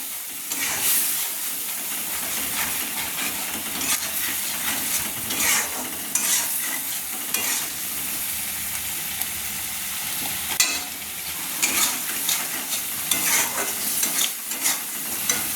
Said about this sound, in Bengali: দুধটা দিয়ে দিচ্ছি মশলাতে, দিয়ে নেড়ে নিচ্ছি।